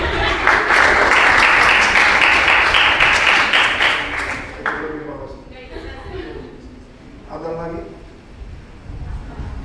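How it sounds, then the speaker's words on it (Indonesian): A room of people applauds on cue, a loud burst of dense clapping for about four seconds that thins and fades, followed by scattered talk and a few rhythmic claps. "Tepuk tangan untuk dia."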